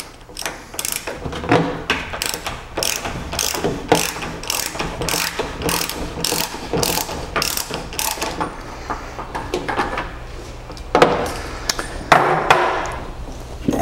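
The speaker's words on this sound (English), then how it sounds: "With the 3/4 inch socket, we're going to remove the fill plug." Ratchet with a 3/4 inch socket loosening the fill plug on a water treatment tank, a close, loud run of rapid pawl clicks in repeated strokes, with pauses and a few clanks near the end, no talk.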